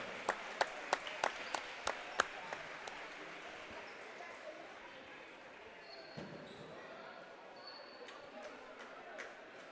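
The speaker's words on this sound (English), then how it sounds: "Fans, let's give the teachers a big round of applause for everything they do for our students every day." Volleyball fans in a school gym applaud teachers, opening with a few sharp isolated claps that fade into a murmuring crowd and scattered clapping, with voices underneath.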